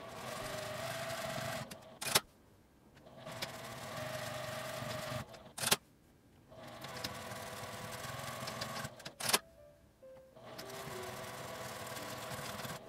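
A sewing machine stitches pinned divider lines down the card pockets of a fabric wallet bag in long, steady, whirring runs broken by short pauses and sharp clicks, with no talk.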